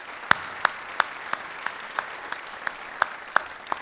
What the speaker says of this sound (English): A round of applause for our sponsors, please.